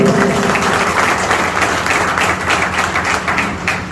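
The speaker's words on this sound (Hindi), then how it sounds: "तो उनके लिए पर जोरदार जबरदस्त क्लैप होना चाहिए।" An audience at a speech event in Chhattisgarh breaks into steady, dense applause, a close wash of clapping hands lasting the full few seconds with no talk over it.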